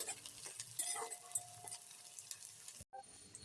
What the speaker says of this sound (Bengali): এবার আমি একটা বড় সাইজের পেঁয়াজ কুচিকে খুব ভালো করে লাল লাল করে ভেজে নেব।